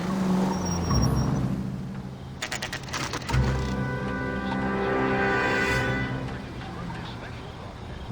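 A car drives in L.A. Noire, its engine humming steadily while a sharp rapid clatter cuts through midway. Voices talk over the driving.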